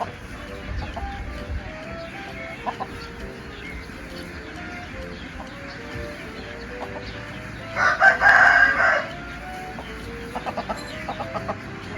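Rooster crowing once in a single loud, drawn-out call midway through, with soft clucks and scattered bird chirps before and after.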